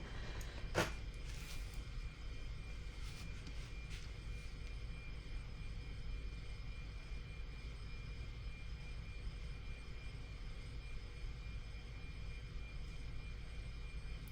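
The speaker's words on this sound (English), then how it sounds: "I meant to turn my fan off" Electric fan running in a room, a steady low whirring hum throughout with a faint tonal whine, constant and unchanging apart from one brief click near the start.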